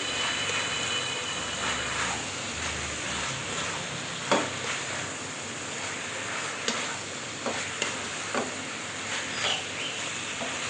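Boiled pasta being stirred into a creamy white sauce for cheesy chicken pasta in a pan, with a steady sizzle and soft scraping, plus a few sharper clinks from the utensil against the pan.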